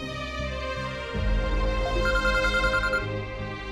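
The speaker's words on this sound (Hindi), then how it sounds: "नूरे का फोन आ रहा है बार, निकलते हैं।" A mobile phone ringtone plays a steady electronic melody, loud and close, repeating its tone pattern for several seconds with no talk over it.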